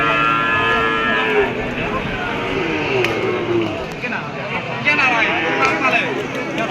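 Bulls and cows at an outdoor Bangladeshi cattle market moo loudly in repeated long calls, some overlapping, over a steady background of crowd chatter and nearby talking.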